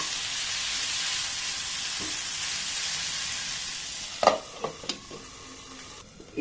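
Paneer fries in a hot pan with a steady, loud sizzle throughout, broken near the end by a few sharp scrapes and knocks as the pieces are stirred.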